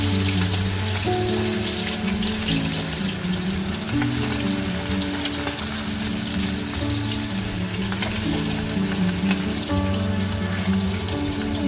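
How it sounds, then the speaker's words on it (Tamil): Marinated quail deep frying in hot oil in a kadai, a steady dense sizzle and bubbling that runs the whole time, with a musical tone underneath and no talking. "ஆயில் நல்லா ஹீட் ஆனதுக்கப்புறமா நம்ம மேக்னேட் பண்ணி வச்சுருக்க காடை ஒன்றா போட்டு பொரிச்சு"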